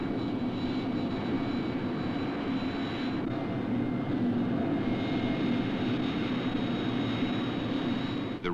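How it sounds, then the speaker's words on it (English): Remote-piloted aircraft on its landing approach, giving a steady, continuous engine roar at moderate loudness with no break, heard alone without voices. "The remote pilot flared the aircraft normally just prior to touchdown."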